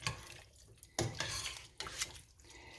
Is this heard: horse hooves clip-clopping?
no